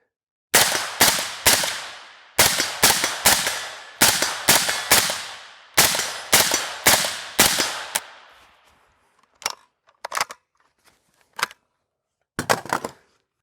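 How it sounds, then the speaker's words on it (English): A roller-delayed rifle fitted with an MFI optics rail fires a string of sharp, loud shots close by, in evenly spaced pairs and triplets. Fainter clicks and clacks of handling follow the shooting. "let's put a few more rounds down range and see how she does"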